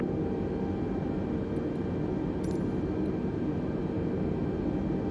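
Airbus A320 taking off in Microsoft Flight Simulator 2020, an Aegean flight from Venizelos: a steady, dense engine roar holds at constant loudness throughout, with a few faint high clicks over it.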